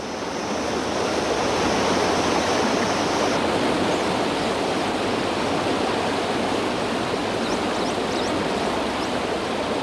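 A waterfall in Mexico roars steadily and loudly. Its broad rushing spray continues without a break, and faint high chirps of swifts come through near the end.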